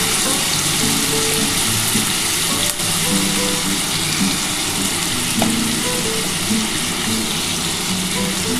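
Potato and onion pieces frying in hot oil for street-style ghugni give off a continuous, even sizzle up close, with faint stirring clatter underneath.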